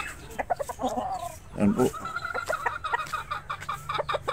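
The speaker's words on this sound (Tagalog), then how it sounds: "baka mangitlog ito ulit ngayon mga kaibigan kasi nagkaktak na eh" A 14-month-old farm hen cackles close by in a series of loud, rhythmic clucks and squawks, with a brief spoken voice at the start.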